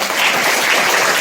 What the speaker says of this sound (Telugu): ఇక్కడ 2 చేతులతో క్లాప్ కొట్టడం ఎంతమందికి వచ్చు?